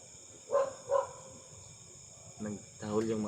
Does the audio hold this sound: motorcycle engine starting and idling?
no